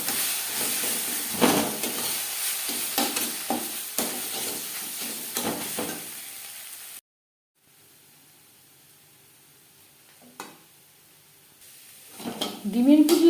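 Scrambled egg (egg bhujia) frying in a pan: a hissing sizzle broken by bursts of stirring and scraping, then a brief silence, quieter sizzling and a few sharp utensil knocks toward the end.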